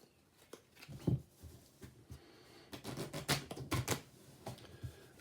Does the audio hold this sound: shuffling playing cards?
yes